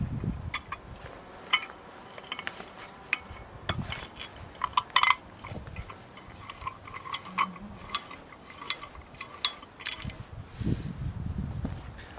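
Metal parts clink and tick as a spring and washer go onto the bolt of a homemade steel target stand, a steady run of small, close metallic taps and scrapes with a brighter clank near the middle.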